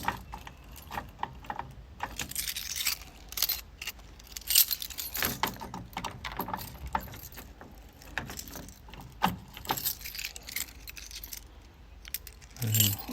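A bunch of Land Rover Defender keys, for a 2015 Defender 130 Special Utility, jangle and clink close up in repeated metallic bursts throughout, with quiet, occasional talk underneath.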